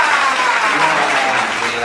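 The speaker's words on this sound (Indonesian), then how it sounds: "Beri tepuk tangan untuk Bang Akri Patrio." A studio audience at a Patrio anniversary celebration gives a short, loud burst of continuous applause for comedian Akri Patrio, with voices partly mixed into the clapping.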